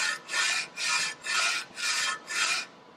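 Sandpaper is worked back and forth across a warped motorcycle engine case, producing five close, even, rasping strokes with short pauses between them.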